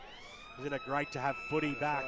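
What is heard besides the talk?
quarter-time siren at a football ground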